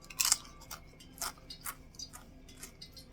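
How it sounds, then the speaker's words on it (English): Homemade fried plantain chips crunch crisply, draining on paper towels: a few sharp, close crackles in brief bursts, one louder cluster near the start and several lighter crisp snaps after, with no talking. "at the crunch in this thing."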